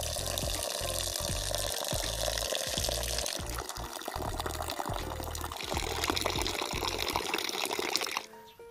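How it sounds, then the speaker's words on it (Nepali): Grain is washed in clean water in a village kitchen while making tomba, with continuous close sloshing and pouring and a series of soft rhythmic thumps from stirring. "सफा पानीले मजाले यसलाई फोहोर जाने गरी धुनुपर्ने हुन्छ"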